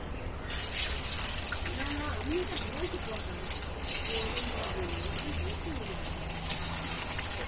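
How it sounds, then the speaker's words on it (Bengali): Semolina and potato snacks deep-frying in hot oil, giving a steady, loud bubbling hiss that runs throughout with faint background tones. "এইভাবে করেই কিন্তু ভেজে নিতে হবে একটু হাতে সময় নিয়ে"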